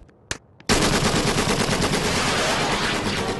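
Cartoon gunfire bursts out after a couple of short pops and roars on as a loud, continuous rapid-fire machine-gun rattle that fills the rest of the moment.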